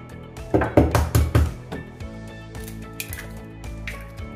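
Gluten-free cookie dough being stirred with melted butter, coconut sugar and egg: wet squishing and clinking against a bowl, louder for about a second early on, then a softer rhythmic stirring, with no talk.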